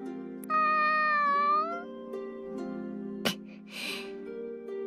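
A cat meows in Sword Art Online Alicization Lycoris, one loud drawn-out meow near the start, then softer vocal sounds and a short clap over a steady game background hum.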